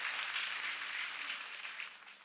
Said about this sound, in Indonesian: Tepuk tangan yang paling dahsyat.